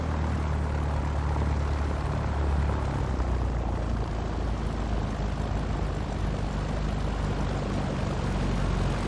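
Steady, loud drone of an ultralight aircraft's propeller engine running up on an aircraft carrier in X-Plane 11, a continuous buzzing hum with low tonal bands that hold even and dense throughout, no speech.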